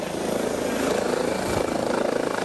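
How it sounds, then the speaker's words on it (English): A helicopter's rotor thumps rapidly and steadily, loud and close, with a dense engine roar throughout and no voices. "The helicopter's going to..."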